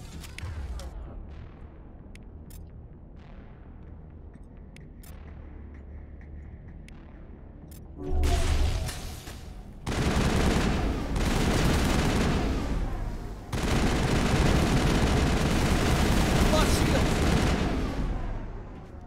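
Gunfire in the Mass Effect video game: quiet at first, then dense, loud bursts of rapid automatic shots and blasts that run in sustained stretches through the second half.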